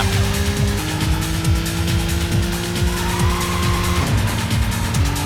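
Engine roar and tire squeal from a car racing along a Hakone highway in the Racing Lagoon video game, a loud steady drone with shifting gear pitches throughout, no talking.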